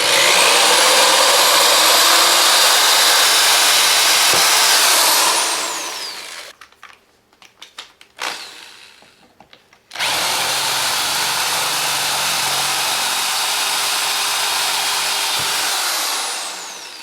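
A loud old Black & Decker electric drill drills an aluminum tube, running steadily, cutting out into a few brief sputtering bursts, then whining continuously again until it winds down.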